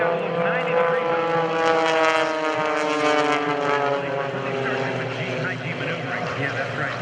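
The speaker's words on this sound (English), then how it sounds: "He just gets himself visually married to John's airplane" Blue Angels aerobatic airplanes fly at the 2012 homecoming airshow, a sustained droning engine roar with shifting pitch that stays prominent under commentators talking.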